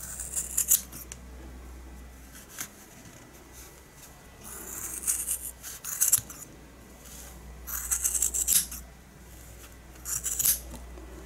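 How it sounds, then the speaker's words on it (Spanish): Scissors snip through wool yarn while shaping a pom pom, several short crisp cutting bursts spaced out over quiet handling noise, close and clear. "Seguidamente necesitaremos de la tijera y vamos a cortar primero una mitad"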